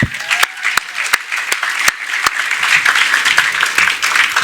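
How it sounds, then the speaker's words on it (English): A small crowd at a free speech summit gives itself a round of applause, mixing a few sharp individual claps early on with many hands clapping briskly and loudly, swelling into a fuller, sustained ovation. "please give yourselves a round of applause for showing up"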